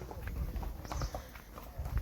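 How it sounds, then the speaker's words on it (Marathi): Horse hooves clip-clopping on a hill path at a hill station, a steady close rhythm of hoofbeats over outdoor background noise. "प्रवासासाठी भरपूर प्रमाणात हॉर्स उपलब्ध आहेत तर तुम्ही खूप छान असे घोडे पाहू शकता"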